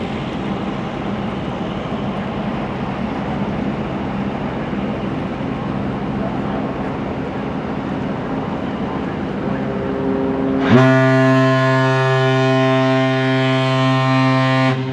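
A ship powered by four 3,500-horsepower 20-cylinder General Motors diesel engines passes the Duluth Aerial Lift Bridge in fog. A low, steady rumble gives way to a loud, deep, sustained horn blast that holds to the end.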